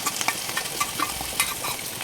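Masala and yogurt being stirred together in a pan after browning onions: a steady sizzle with repeated soft scraping and clicking strokes close by, no voices.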